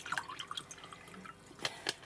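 Someone takes a mouthful of water in a quiet room, with a few soft wet swallowing and dripping sounds, brief and close, ending in two sharper gulps.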